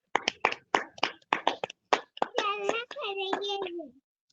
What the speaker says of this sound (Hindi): कोई ताली बजा रहा है,